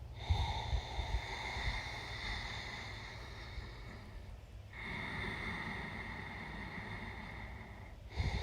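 During a vinyasa yoga practice, one slow deep inhale and a long exhale are heard, soft and close, over a quiet sustained musical drone.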